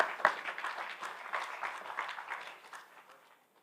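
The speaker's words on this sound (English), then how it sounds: "A round of applause, please." Conference audience claps in a brief, fairly faint round of applause, individual claps audible and steady before tapering away at the end.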